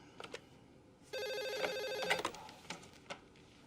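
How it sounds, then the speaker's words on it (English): A telephone bell rings in one sustained trill for about a second after brief clicks, then trails off into a few scattered knocks and handling sounds, fairly close and alone without talk. "You have a phone call from Miss Isabel's credit card company"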